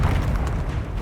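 Confringo spell explosion in the Hogwarts Legacy video game, a deep rumbling boom that fills the whole second, loud and bass-heavy.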